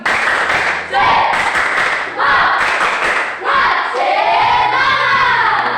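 A group claps in a steady rhythm while voices shout and chant together in bursts, loud and close, like a class doing a cheer.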